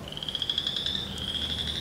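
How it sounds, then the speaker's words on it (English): Frogs in a flooded pond give a continuous high trilling chorus, steady and moderately loud against faint outdoor background noise, with no talking. "Frogs are enjoying it."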